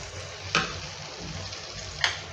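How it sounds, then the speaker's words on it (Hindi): Ginger sautés in a pan for samosa filling with a constant soft sizzle and two sharp spatula scrapes. "लें ये अदरक, थोड़ा सा सौते कर लूँ"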